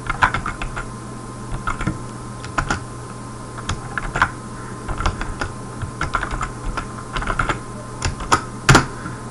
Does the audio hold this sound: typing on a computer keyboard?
yes